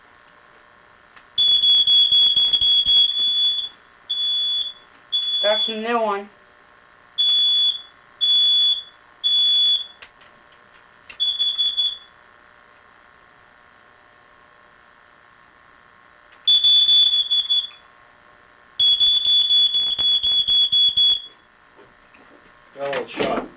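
Old household smoke alarm, failing, sounding loud piercing beeps in irregular bursts of varying length with quiet gaps between, while people talk briefly nearby.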